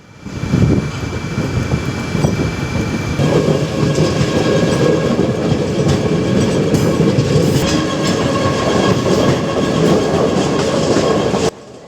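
Train running on the Sengottai–Punalur railway line in the monsoon, a loud continuous rolling rumble with rhythmic wheel clatter and occasional squeal, heard from aboard and cutting off abruptly near the end.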